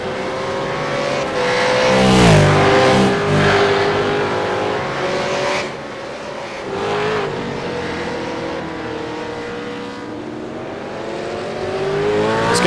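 V8 touring race cars roar around the Okayama circuit, engines loud and close with rising and falling revs as cars pass and shift, a continuous dense racing din throughout.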